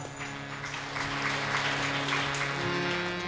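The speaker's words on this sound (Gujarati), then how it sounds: "તમે તાલીઓ પાડી" Audience in a Gujarati Bhagavat Katha religious discourse hall clapping together, a steady, dense wash of applause lasting a few seconds with a faint voice underneath.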